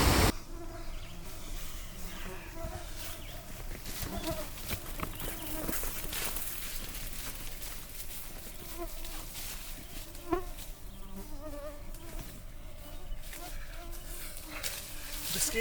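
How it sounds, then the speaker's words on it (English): Mosquitoes, deer flies and horse flies buzz and whine around a bikepacker on a boggy Manitoba trail, a dense continuous insect drone close to the microphone with quieter stretches. "I feel like I'm gonna die from blood loss to these mosquitoes, these deer flies, and these horse flies"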